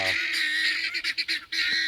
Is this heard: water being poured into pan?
no